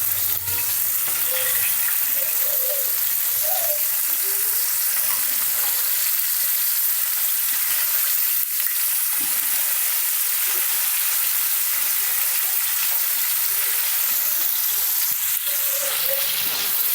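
Semolina-coated Bombay duck fish fry in a pan with a loud, steady, close crackling sizzle of hot oil that runs without pause throughout.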